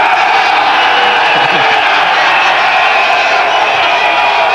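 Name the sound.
cricket crowd cheering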